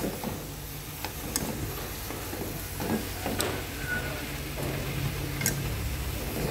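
Blanched water spinach being stir-fried in a pan with shrimp, a steady sizzle with scattered ticks and clinks of a utensil stirring, close and continuous with no talk.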